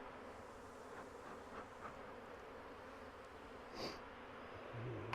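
Honeybees buzz in a full ten-frame deep hive box during a split transfer, a soft steady drone running throughout with faint knocks and a brief louder bump near the middle.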